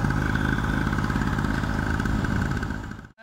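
A vehicle engine idles steadily while warming up, a loud, even, close rumble that cuts off abruptly at the very end.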